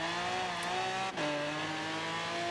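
Pink Lamborghini Aventador in Forza Horizon 3 holding a steady, loud engine drone with clear harmonic tones, a brief dip and shift near the middle as if changing gear, then continuing at a slightly lower pitch.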